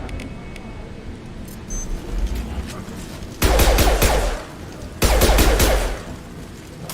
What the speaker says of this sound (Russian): Хищник так стреляет.